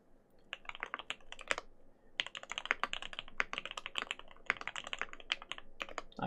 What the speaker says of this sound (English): So let's see what it sounds like. Let's see if I can type first of all.